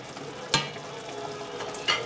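Meat simmers in sauce in a pan, giving a steady close sizzling bubble with a couple of sharp stirring clinks, and no one speaks.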